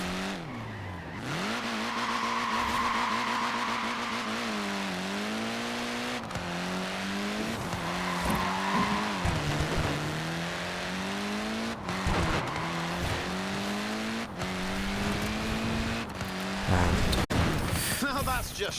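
Mini tyres skid and squeal in Forza Horizon 4 with a game engine revving and wavering in pitch underneath, the rubber screech sustained for most of the stretch and broken by sharp clunks near and loud, someone talking over it.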